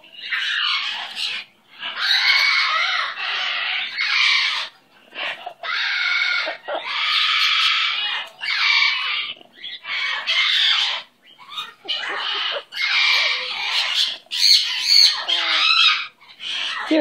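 A pet bird squawks repeatedly in harsh, loud bursts close by, a long run of raspy calls separated by brief pauses.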